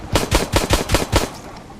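Rapid bursts of AK rifle fire from the survival video game DREADZONE, about six loud close shots in quick rhythmic succession, then a short fading tail.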